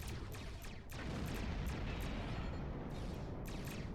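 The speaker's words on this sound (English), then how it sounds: "there's that initial explosion letting you know that they've died." Enemy starships blow up in Star Trek Online space combat, a sustained rumbling roar of explosion with sharp crackling bursts and thuds scattered throughout, loud and dense with no talking.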